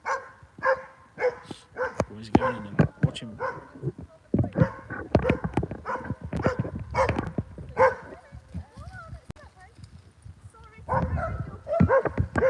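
A dog barks and whimpers in short yips and whines outdoors by a river, coming in busy, uneven bursts that mix with people talking nearby.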